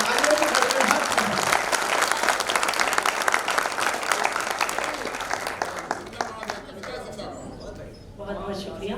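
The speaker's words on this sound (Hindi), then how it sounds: "मैं चाहता हूँ एक बार पूरा सदन तालियों से गड़गड़ाहट से" A hall audience at a Hindi poetry recital (kavi sammelan) breaks into thunderous applause, loud dense clapping that thins out after a few seconds, leaving a few scattered claps and faint voices.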